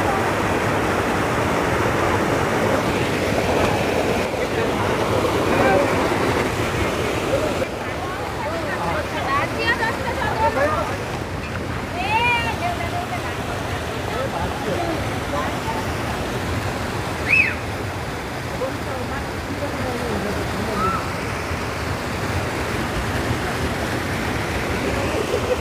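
Flash-flood water rushing loudly and continuously at a river confluence as rain begins again, a dense roar close by with a voice speaking over it.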